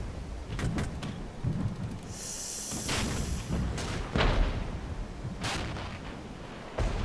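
Artillery in the Regiments video game fires a series of heavy booms, several sharp blasts spaced a second or two apart over a rumbling low background, fairly distant and moderate in level, with no talk.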